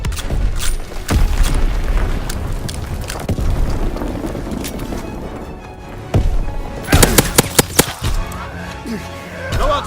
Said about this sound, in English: Air package descending. Protect the dropping Fritz X bomb.